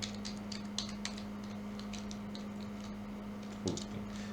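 Keys on a computer keyboard clatter in quick, irregular bursts of soft clicks, faint and close, over a low steady hum with no voices.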